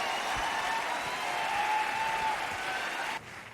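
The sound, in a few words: audience applause welcoming family on stage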